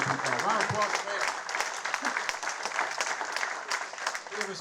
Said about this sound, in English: Round of applause for Mayor.